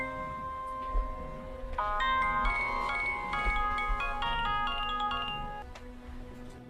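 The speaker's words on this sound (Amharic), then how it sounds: "ስማ ሞባይል እየጠራ ነው" A mobile phone plays an electronic melodic ringtone, repeating tonal notes at moderate volume in an indoor scene from an old Amharic film, with little else over it.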